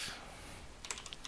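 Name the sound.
typing a Linux command on a computer keyboard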